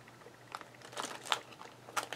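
Paper is pressed through a die-cutting machine with a frame die, giving soft crinkling and crunching bursts at close range, fairly quiet, with no talking.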